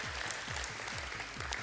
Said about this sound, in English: I do thank you for the applause.